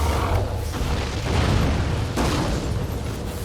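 Fiery blasts from a fire attack in the samurai action game Nioh 2, a dense, loud, continuous roaring burst with a sharper flare-up midway, no talk over it.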